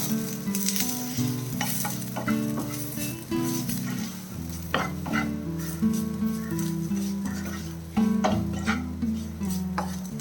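Spice powders, including turmeric, sizzle loudly in hot oil in a pan while they are stirred for a squid dish. The frying hiss is steady, with spoon scrapes and clinks throughout and background music underneath.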